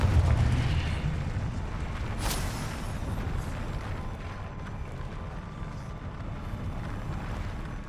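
The Confringo fire spell explodes in Hogwarts Legacy with a heavy booming blast at the start that rolls off into a long, rumbling roar, steady and loud throughout.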